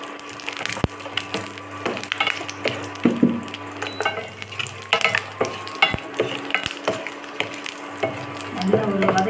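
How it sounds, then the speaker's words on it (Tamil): Cumin seeds and five or six garlic cloves are sautéed in a pan, with repeated close scraping and knocking strokes from stirring over a light sizzle in an irregular rhythm. "நல்லா ஒரு வதக்க கொடுத்துட்டு"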